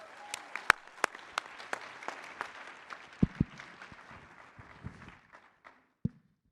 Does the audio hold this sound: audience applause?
yes